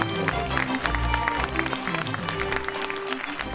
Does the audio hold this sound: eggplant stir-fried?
no